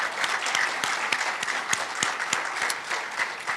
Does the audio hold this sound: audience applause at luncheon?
yes